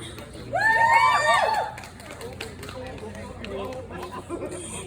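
Audience cheering and shouting at a car show beauty pageant: a loud burst of high-pitched cheers and whoops for about a second, then settling into lower crowd chatter and babble.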